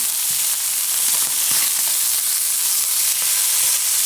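Steaks for Steak Diane sear in a hot pan with a loud, continuous sizzle and crackling spatter, close up and without any voices.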